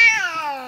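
A cat lets out a single loud, close meow that starts high and slides downward, heard alone in a cats-versus-cucumbers scene.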